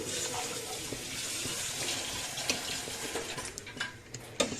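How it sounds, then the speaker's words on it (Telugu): Water goes into sambar dal in a pot, a soft, faint watery rush with light splashes and clinks that grow more distinct toward the end. "చూడండి, వాటర్ పోసాను."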